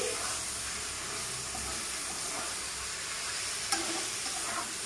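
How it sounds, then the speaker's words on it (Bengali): Red spinach with brinjal fries in a pan, stirred with a metal spatula. A constant loud sizzle carries through, with soft scraping strokes and one sharp clink near the end. "এখন আমি শাকটাকে ভালো করে ভেজে নিচ্ছি।"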